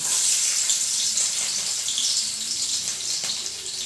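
Garlic hits hot oil in a pan, a continuous bright sizzle that holds steady and close throughout, slowly easing slightly toward the end.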